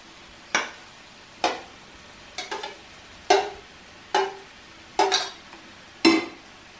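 Paneer stirred in hot oil for a vegetable biryani, sharp spoon-against-pan clinks and scrapes repeating about once a second over a faint sizzle, close and without talk.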